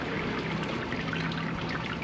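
Hot sparge water at about 75 degrees is poured slowly over mashed grain in a Grainfather G30 brewing system, a continuous close trickling pour.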